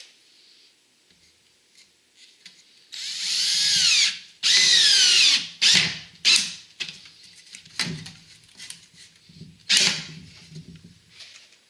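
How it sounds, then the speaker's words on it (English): Power drill driving screws into flimsy scrap pallet boards for a compost bin, several loud whining bursts of a few seconds each with brief pauses, then shorter screw-driving spurts and clattering handling, ending in a snap as a screw seats. "The last snap noise that you just heard when that screw went in"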